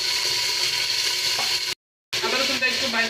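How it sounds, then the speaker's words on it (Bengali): Ginger and garlic paste frying with already browned onions gives a dense, steady sizzle with stirring scrapes, interrupted by a short total dropout before resuming. "আদা রসুনটা একটু ভাজে নিব যাতে আদা রসুনের কাঁচা গন্ধটা না থাকে"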